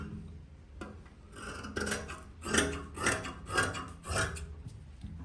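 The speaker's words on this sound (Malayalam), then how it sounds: "ഇങ്ങനെ അങ്ങോട്ട് സ്ലീവ് ഒന്ന് കട്ട് ചെയ്യുക" Fabric being cut for a sleeve of a women's outfit, heard as a series of rough, rasping scissor strokes in a steady rhythm, close and moderately loud, with no talking.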